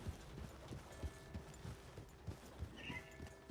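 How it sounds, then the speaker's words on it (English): Horse hooves clip-clopping in Red Dead Redemption 2, a soft, steady walking rhythm of distinct thuds, fairly faint, with a short higher whinny-like sound near the end. "I gotta return this horse, don't I?"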